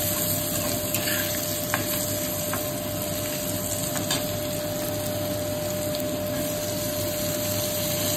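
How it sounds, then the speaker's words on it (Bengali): Carrots frying in mustard oil give a steady, close sizzle that runs unbroken throughout, with faint occasional clicks and a low background hum. "গাজরগুলো ভেজে নিলাম"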